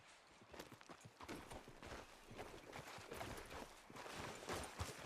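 Horse hooves clip-clop steadily in Red Dead Redemption 2, a close, rhythmic run of hoofbeats on the ground continuing for several seconds with no talking.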